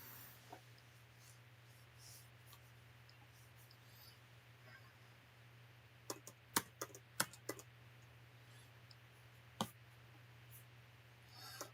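Sparse keystrokes on a computer keyboard, faint and close over a steady electrical hum, arriving in a small burst of clicks near the middle with a few isolated taps before and after and no talking.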